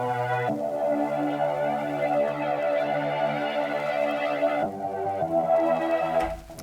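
Synth lead preset named Trapped, a bright buzzy sustained tone with a thick stack of harmonics and a shimmering, effect-laden texture, changing pitch twice and dropping at the end, with no one talking.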